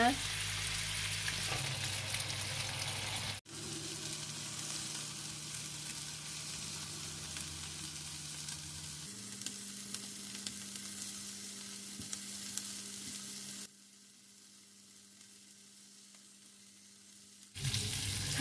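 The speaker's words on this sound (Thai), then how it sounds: "แล้วเดี๋ยวเราก็จะย่างให้สุกให้เหลืองดีนะคะ" Butter-brushed chicken skewers sizzle steadily on a grill, a continuous close frying hiss with a brief drop in level partway through.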